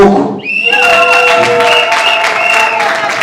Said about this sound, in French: Applaudissez pour la colline